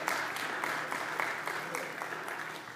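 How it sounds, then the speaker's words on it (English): Church congregation clapping hands at a service, fairly loud and continuous with some sharp individual claps standing out above the steady patter. "Yes, give them a hand clap."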